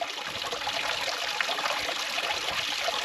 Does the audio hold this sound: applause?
no